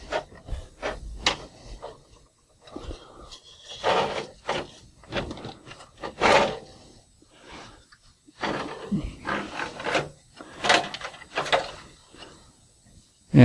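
HP Designjet printer carriage (T610/T1100/Z2100/Z3200 series) slid by hand along its rail, giving intermittent close scraping and rubbing pushes with brief knocks and pauses between them.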